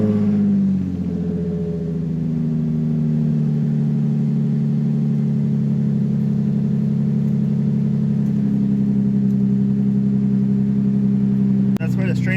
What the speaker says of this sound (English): That's what a straight piped Infinity sounds like.